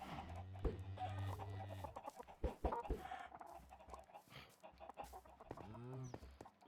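Chickens in the Minecraft video game cluck and squawk in short repeated bursts, fairly close and clear, mixed with game clicks and other effects.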